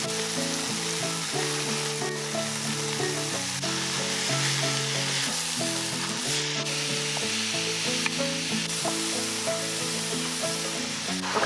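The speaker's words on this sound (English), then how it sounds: "now all of our vegetables and our ground beef are sauteed" Ground beef and chopped vegetables sauté in a hot pan for butternut squash chili, giving a continuous loud, close sizzle with light stirring throughout and no talking.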